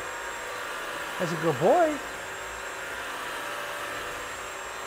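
Bissell Crosswave Pet Pro washing a hardwood floor on its hardwood setting, a steady motor whir and wash hum running the whole time, with a person briefly speaking over it partway through.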